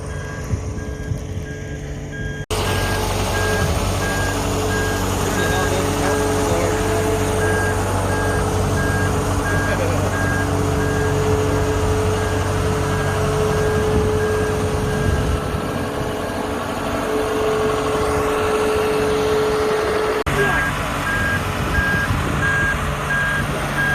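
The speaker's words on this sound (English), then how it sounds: "here comes Joe's favorite remote control car, coming to move our boat" A vehicle jokingly called a remote control car beeps steadily as it reverses to move a boat, its evenly spaced reversing tones sounding loud and close over a constant engine drone for the whole stretch.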